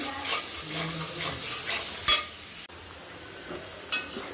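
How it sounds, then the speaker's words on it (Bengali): Spice masala with bottle gourd stir-fried in a pan: a steady low sizzle with scraping stirs and a couple of sharp utensil clinks against the metal. "একটা লাউ পুরাই নিয়েছি, মশলা কষাচ্ছি"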